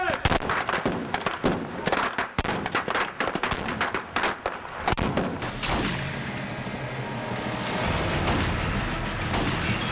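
Prop guns fire blanks on a film set in dense, rapid bursts of loud, sharp cracks for several seconds, then give way to a sustained roaring wash of noise.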